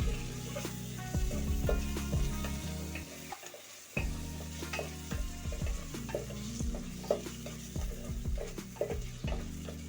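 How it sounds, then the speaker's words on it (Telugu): Curry leaves and ginger-garlic paste fry in a pan for a moringa egg curry, a low steady sizzle under frequent scraping and clinking from a spoon stirring the mix, close and quiet, with a brief lull partway through. "కరివేపాకు వేసుకోవాలి కొంచెం తర్వాత స్పూన్ అల్లం వెల్లుల్లి పేస్ట్ వేసుకోవాలి వేసుకున్నాక ఇలా కలిపి కలిపేసేసుకోవాలి"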